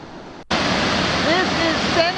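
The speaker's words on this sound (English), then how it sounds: "The overflow from Keuka Lake has created some pretty impressive waterfalls too." Seneca Mills Falls, a waterfall fed by overflow from Keuka Lake, roars as a steady, loud, close rush of falling water that cuts in abruptly and stays constant, with faint chirping tones above it.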